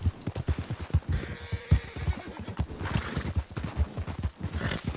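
A horse sets off in a race with quick, rhythmic hoofbeats clip-clopping close by, a brief whinny mixed in, and the footfalls pattering steadily on.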